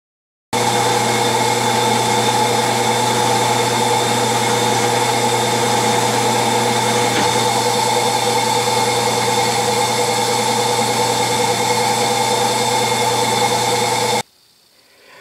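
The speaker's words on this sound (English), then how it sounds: "I'm going to single point thread it to about 3/4 dip" A lathe single-point threading a steel arbor for a Clausing mill, giving a steady loud machine hum with a constant whine that runs evenly for about fourteen seconds, then cuts off abruptly.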